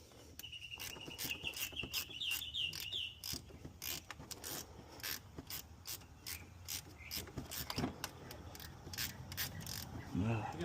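Ratchet with a 15 mm socket turning a bolt during a starter replacement on a 2014 Chevy Impala LT V6; quick close clicking bursts of the pawl repeat in uneven runs, with faint metallic rubbing between them.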